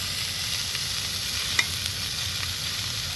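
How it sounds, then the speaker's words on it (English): Bacon sizzles in a pan over a campfire by a pond, a steady dense hiss of crackling fat with a faint pop or two, heard close and continuous with no talking. "we are currently making the bacon"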